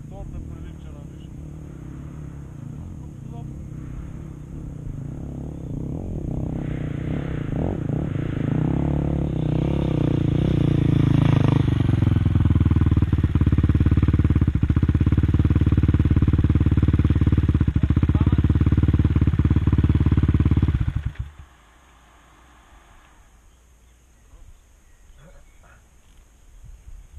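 A new motorcycle engine revs up and holds a loud, steady drone for several seconds, then cuts off abruptly, leaving quiet ambience with faint voices.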